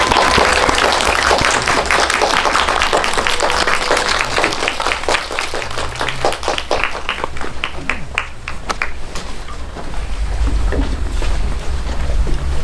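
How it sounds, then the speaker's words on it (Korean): An audience at a Korean cinema talk event gives a big round of applause to welcome an actress onto the stage, producing a loud, dense, continuous roar of many hands clapping that swells again toward the end. "자리로 나와주시면 큰 박수 부탁드리겠습니다."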